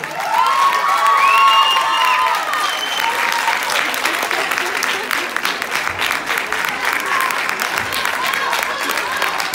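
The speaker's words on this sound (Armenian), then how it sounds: "Երիակե բոլորը ծափարում ենք" Applause for winning children at an award ceremony, sustained loud clapping from a large crowd with cheers and children's shouts, running steadily throughout.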